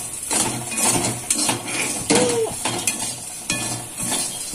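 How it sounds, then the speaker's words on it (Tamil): Raw plantain (vaazhakkai) fry sizzles in a pan while a metal spatula stirs and scrapes, giving a steady crackle broken by repeated clinks and knocks, close and fairly loud. "சலசலன்னு சத்தம் கேட்கறது பாருங்க"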